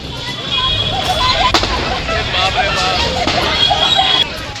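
Explosions go off inside a burning building during a fire in Lucknow, several sharp distant bangs spaced across a few seconds amid crowd babble and street noise.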